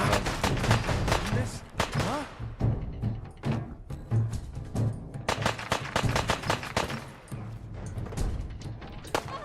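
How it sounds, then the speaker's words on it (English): Rapid gunfire in Fallout 4 VR, a dense stream of loud shots and bursts layered with thuds and crashes, with brief lulls between volleys and a voice talking now and then underneath. "Why are you shooting?"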